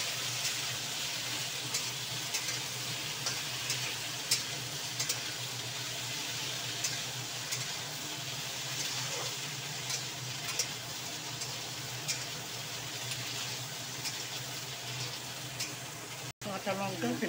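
Ridge gourd and snake gourd fry in a pan, a steady moderate sizzle with occasional light stirring clicks, faint voice at times and a sharp knock near the end.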